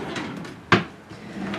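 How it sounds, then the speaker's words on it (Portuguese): A makeup vanity drawer slides open with a single sharp clunk midway, set against a quiet room with faint low murmuring before and after. "Na gaveta de baixo ficam todos os produtos pra pele."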